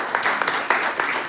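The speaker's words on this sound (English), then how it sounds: "Give him a round of applause," Brief applause from an event audience, a short patter of scattered claps at moderate loudness, with a voice faintly present beneath.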